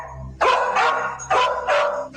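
A sniffer dog barks loudly and close in a series of short, rough bursts, roughly three or four barks with brief gaps, over a faint low background.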